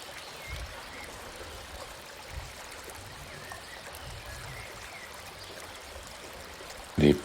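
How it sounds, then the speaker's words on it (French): A calm river stream trickles and flows around small obstacles such as leaves and branches, a steady soft babbling wash throughout, with a brief louder splash at the very end. "Regardez l'eau qui contourne calmement ces petits obstacles."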